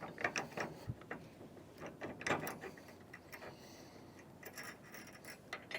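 A metal pin slides through a tow bar end and a Roadmaster base plate arm, giving a few close, sharp metallic clicks and scrapes with quiet pauses between.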